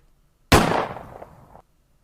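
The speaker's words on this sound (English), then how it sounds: "Fucking gunshot?" A single sharp gunshot from an animated show cracks out loudly and decays over about a second before cutting off, with silence before and after.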